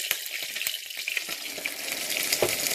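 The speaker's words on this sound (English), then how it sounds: "Now you can hear the oil is already heated quite well." Hot oil sizzles and crackles steadily in a pan with a bay leaf, just before onions are added for yoghurt chicken, close and bright with scattered pops.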